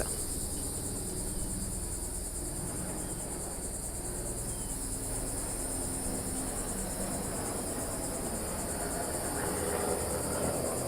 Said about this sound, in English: I hope the cicadas are not like throwing y'all off, because they're very comforting for me.